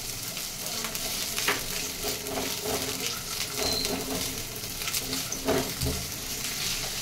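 Coarsely chopped onion sizzles and crackles steadily in about two spoonfuls of hot oil in a pan, a continuous close frying hiss with occasional stirring scrapes and no talk.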